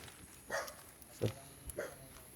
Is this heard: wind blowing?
no